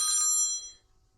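A bright, old-style iPhone telephone bell ringtone rings in a quick burst, then cuts off into near silence.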